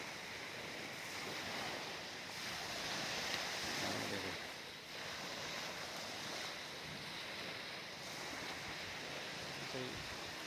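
Sea waves wash onto a beach in a continuous roar of surf, with wind gusting across the microphone and swelling and easing throughout.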